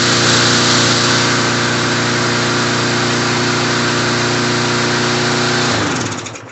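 Bolens Troy-Bilt lawn mower with a Briggs and Stratton engine, freshly rebuilt carburetor, runs loud and steady close by, then winds down and cuts off near the end.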